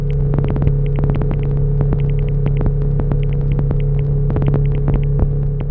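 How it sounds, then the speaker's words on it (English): Bandpass-filtered noise pulses from a mini Landfill Totems instrument, a loud droning hum beneath a fast, irregular patter of short clicky pulses and bursts, continuous throughout. "Bandpass Pulses was made with this mini version of my Landfill Totems"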